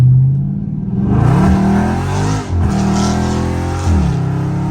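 A loud Scat Pack car accelerates aggressively, its engine climbing in a deep, close roar through the gears with a brief dip at a shift before surging again.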